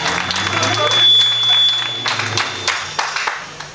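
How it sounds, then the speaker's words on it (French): Guests at a civil wedding ceremony in Congo applaud the bride, a short burst of scattered hand claps mixed with overlapping voices. "Applaudissez pour mademoiselle."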